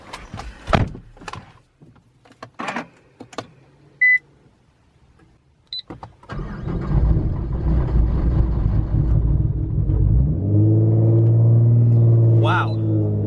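Car interior: several door thunks and beeps, then the engine starts and a steady close rumble builds and rises in pitch as the car pulls away and drives.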